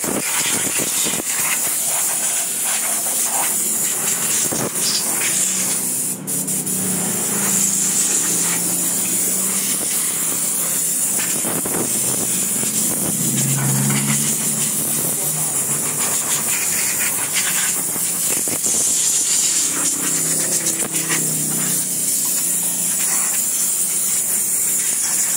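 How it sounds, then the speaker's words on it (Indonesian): Compressed air blowing dust off the outside of an object, a loud continuous hiss that runs for the whole stretch with slight surges and dips, close by. "kita semprot bagian luarnya menggunakan angin teman-teman"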